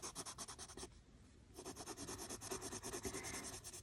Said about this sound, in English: at this point I'm basically burnishing